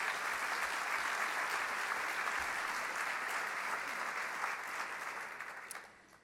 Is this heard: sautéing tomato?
no